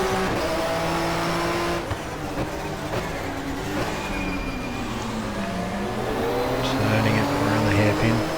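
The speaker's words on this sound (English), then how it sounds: "You're sort of half steering left as you're braking and changing down." A 1994 German Touring Car Cup BMW in the GTR2 racing game brakes and downshifts at the Diepholz circuit, its engine note dropping in steps and then rising again, loud and continuous, with someone talking over it.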